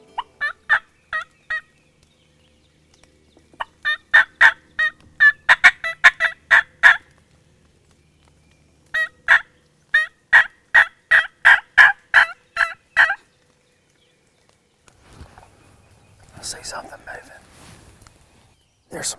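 Wild turkeys, jakes and toms, gobbling in a Georgia field, with repeated loud bursts of rattling gobbles in several clusters, some overlapping, followed by quieter rustling and brief sounds at the end.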